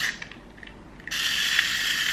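Small propeller water pump in a turtle aquarium switching on, a quiet mechanical ticking giving way to a loud, steady whirring hiss that continues to the end, with no talking.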